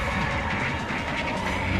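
A video game train in Project Playtime rumbles steadily with a continuous rolling clatter of wheels on rails, fairly loud and close, with no voices.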